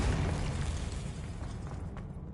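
A Confringo spell bursts in Hogwarts Legacy, a rumbling, broadband blast that fills the whole moment and then slowly thins and fades, with no voices over it.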